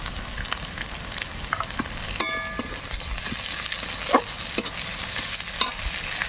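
Chopped onions sizzle steadily in hot oil with garlic and black cumin, broken by scraping stirs of a spatula against the pan, close and continuous.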